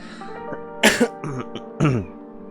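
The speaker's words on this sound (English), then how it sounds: "Now you have to excuse me here if I'm coughing" Several close coughs and throat-clearing bursts spaced over a couple of seconds, with a faint musical tone running underneath.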